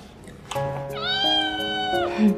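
A cat gives one drawn-out, clear meow close by, rising and then falling away, with a faint short sound after it.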